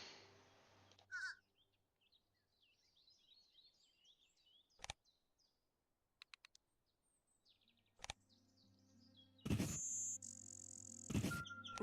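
A fish crow calls in the Wingspan digital board game: scattered short caws and chirps over a quiet background, broken by a few sharp clicks and followed by louder tonal game chimes near the end.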